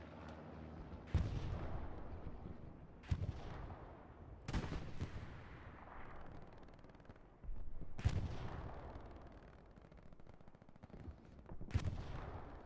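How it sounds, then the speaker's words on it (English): Distant artillery booms land one at a time in Hell Let Loose, about six heavy thuds spread over the stretch, each with a long rumbling tail, alone and without talk. "So we're calling for artillery here."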